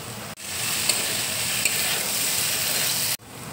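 Ghee added to a pan of banana flower curry sizzles loudly and close, a dense continuous frying hiss with two abrupt breaks where the sound cuts out.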